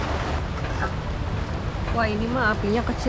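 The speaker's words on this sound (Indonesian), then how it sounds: "Seperti sekarang ini lagi hujan" Steady rain falls outdoors, heard around an outdoor cooking stove as a constant dense wash of noise, with a person speaking over it toward the end.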